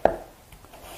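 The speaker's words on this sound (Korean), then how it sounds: "끝을 조금 두들겨서 썰어줄게요." A knife chops the end of a Korean radish for kimchi seasoning: one sharp, close knock on the cutting board, followed by near silence.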